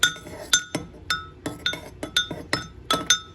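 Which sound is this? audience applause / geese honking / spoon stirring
spoon stirring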